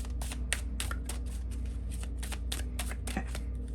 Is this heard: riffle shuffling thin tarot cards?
yes